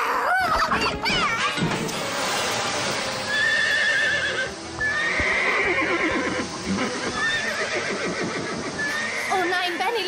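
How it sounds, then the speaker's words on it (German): Horses in a German-dubbed animated series whinny and neigh repeatedly amid clip-clopping hooves, a busy, agitated scene where the animal calls ring out over overlapping voices. "helf mir, die Pferde zu beruhigen!"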